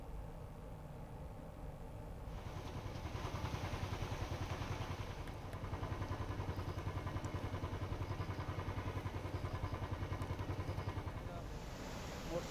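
A motorcycle engine runs steadily while the bike crosses a flooded road with water pouring over it, a continuous mid-pitched rumble with rushing water and clatter; voices talk over it.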